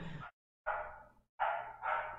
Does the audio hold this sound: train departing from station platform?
no